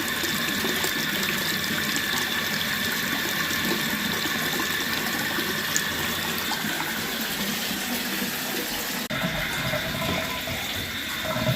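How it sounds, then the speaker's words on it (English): Bathroom sink tap runs water steadily into the drain in a repaired drain stack, a continuous close hiss and splash, loud and unbroken for the whole stretch with no talking. "So there's the sink running."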